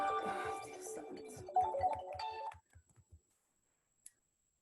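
Telephone ringing during a church discipleship session, a melodic ringtone heard up close that ends abruptly, followed by a few faint clicks and a brief beep, with no talking.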